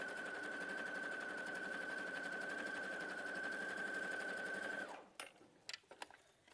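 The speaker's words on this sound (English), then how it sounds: "I'm just going to sew." A sewing machine stitches fabric for half-square triangles in a steady, continuous whirring run with a faint tonal whine, then stops and gives way to a few scattered handling clicks and knocks.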